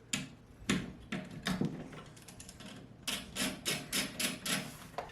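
A socket wrench works an 8 mm bolt on the dash of a 10th-generation Honda Civic, producing a series of sharp ratcheting clicks in bursts, close and without talk.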